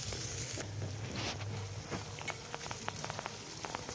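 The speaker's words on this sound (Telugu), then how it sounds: "ఆనియన్స్, పచ్చిమిర్చి ఇవన్నీ కూడా కొంచెం బాగా ఫ్రై అవ్వాలి." Onions and green chillies fry in hot oil for a village-style cucumber tomato curry, a rain-like crackling sizzle with scattered sharp pops growing busier toward the end, nearby and steady, without speech.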